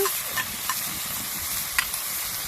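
Ginger and garlic paste fries with onions in a hot pan, producing a dense, close sizzle with a few quick scraping stirs during a brief stretch.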